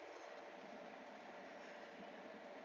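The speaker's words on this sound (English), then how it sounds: "That's the train we have here." A smooth, steady rushing hum of a fast bullet train in motion, heard from inside, constant and fairly quiet with no breaks.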